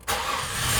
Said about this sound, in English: I'm gonna try to spin the motor over now.